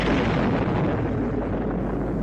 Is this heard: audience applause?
no